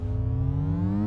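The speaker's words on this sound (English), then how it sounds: "A laser." A sustained electronic laser tone from a gun in the VR game Space Pirate Trainer, a steady humming buzz with slowly rising pitch, loud and continuous with no talk.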